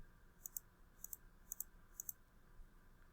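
A computer mouse clicks in quick double clicks, four crisp close pairs spaced evenly about half a second apart, over a quiet room hum.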